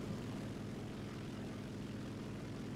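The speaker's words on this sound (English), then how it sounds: "Oh, they've got an aircraft up." Propeller aircraft engine from a Kingfisher floatplane in the naval video game World of Warships, a steady, faint droning hum that holds even throughout with no variation.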